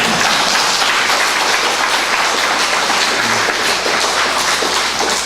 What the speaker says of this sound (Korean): 오늘 제가 박수를 여러 번 받는데